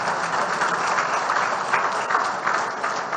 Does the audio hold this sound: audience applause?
yes